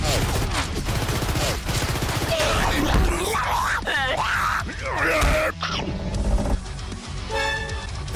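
Rapid gunfire from fast bullets in a Mario-themed PC game, a loud, dense fusillade of shots mixed with game music, tonal effects and a brief vocal groan, with a sharp break near the end.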